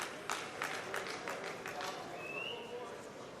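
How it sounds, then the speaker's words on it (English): A crowd of European fans at the Mosconi Cup pool match cheering and clapping, a steady roar with scattered sharp claps, with a commentator talking over it. "There's some of the European contingent out there cheering him on"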